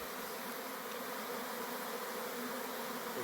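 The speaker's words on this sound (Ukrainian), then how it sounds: "І в нашій вулик із ППС прилетів чийсь рій." Swarm of honeybees flying into a hive, a dense, steady buzzing hum that fills the whole moment without pause, close and loud.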